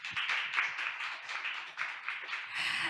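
An audience applauds participating hackathon teams at a 2022 online orientation seminar, a steady, fairly quiet wash of clapping lasting about three seconds and swelling slightly at the end.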